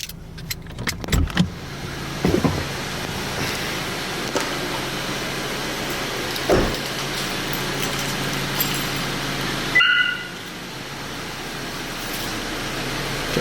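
A car engine idles steadily and close by after a Viper remote start with the key off, a low continuous hum with a few brief clicks and jangles of keys over it.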